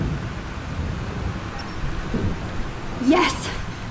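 Thunderstorm in the game Life is Strange: steady rain and wind hiss throughout, with a low rumble of thunder and a brief sweeping tone near the end, loud and close.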